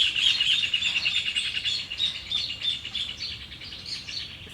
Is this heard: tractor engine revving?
no